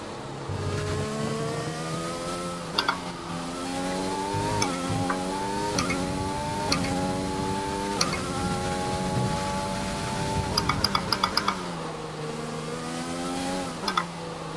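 Formula 1 race car in an F1 video game on a hot qualifying lap around Paul Ricard, engine whining loudly through repeated upshifts, each gear rising in pitch then dropping, steady and close with no talk.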